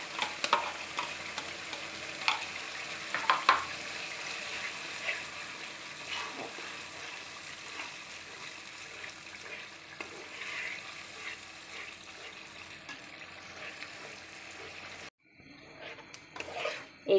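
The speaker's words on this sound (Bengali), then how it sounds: "টক দই অ্যাড করব।" Sour yogurt is stirred into a spice paste frying in a pan for a whole-fish roast: a continuous low sizzle with scraping stir strokes throughout, briefly cut off near the end before frying resumes.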